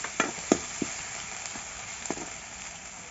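Onions frying in oil previously used to fry fish, a steady soft sizzle with a few sharp pops and crackles standing out near the start, close and moderately loud.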